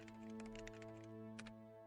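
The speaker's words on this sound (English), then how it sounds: "Is there just always typing sounds in the background" Rapid keyboard typing clicks run in the background of the Gabriel Knight 3 video game, faint and steady over a sustained musical hum, with a denser burst of keystrokes near the end.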